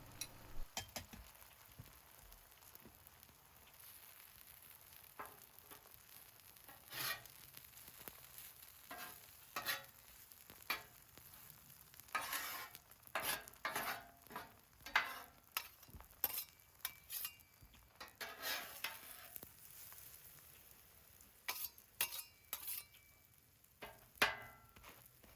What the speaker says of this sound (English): If you've never cooked eggs on a flat top before, they cook very fast